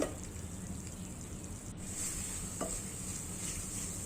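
Kalakand mixture with dried milk powder being stirred in a pan, a soft continuous sizzle with scraping spoon strokes and a light metallic tap, close and without talk.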